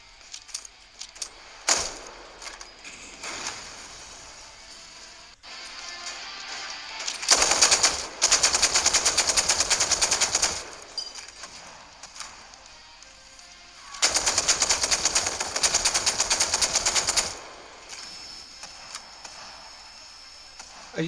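Automatic gunfire in the Free Fire battle royale game, with sharp rapid bursts rattling across the clip, two long intense volleys standing out loudly among sparser scattered shots.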